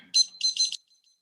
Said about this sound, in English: I'm going to use the old-fashioned timer